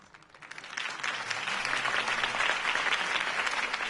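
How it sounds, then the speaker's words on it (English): Crowd applause swells after a Harvey Dent campaign speech in Batman: The Telltale Series, rising quickly from a few claps into sustained dense clapping that holds steady to the end. "could have heard that applause"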